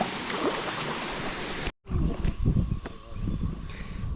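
Waterfall in the southeastern United States, a loud broadband rush of falling water with a short cut in the middle, then churning, uneven roaring.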